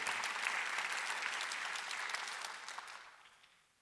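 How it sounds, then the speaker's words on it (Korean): A congregation claps together in a reverberant church during a Sunday service, a dense burst of applause that swells briefly and then fades away. "박수 한번 드렸어요."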